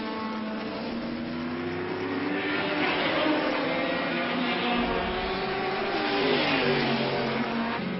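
Historic race cars compete in the Salvadori Cup, their engines howling and rising in pitch as they pass in a continuous, fairly distant roar, with a commentator's voice running over it.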